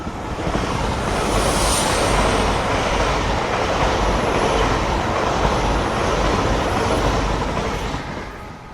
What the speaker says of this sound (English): Express train to London Paddington.